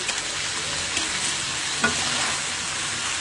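Half-boiled rice stir-fries in a pan for chicken fried rice, giving a continuous close sizzle with light scraping and stirring throughout and no talk.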